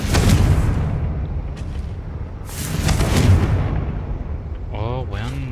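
A Confringo spell blast in Hogwarts Legacy lands as two broad booming bursts, close and loud, with game ambience in between and a short tonal chirp at the end.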